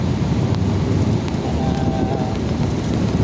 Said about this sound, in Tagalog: Hangin.